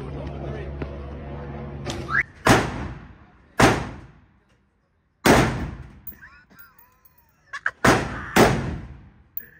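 Gunfire at a shooting range with friends: about six loud, sharp shots at irregular intervals, each trailing off in a ringing echo, with a voice briefly heard before the first shot.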